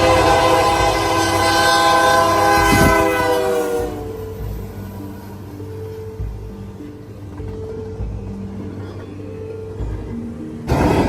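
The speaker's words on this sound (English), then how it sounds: "Ford Treddy had an excellent P3 horn from CP9816." A locomotive's P3 air horn, taken from CP9816, sounds one long, loud, chord-rich blast for about four seconds, then cuts off, leaving the rumble of the passing train and the clatter of railcars.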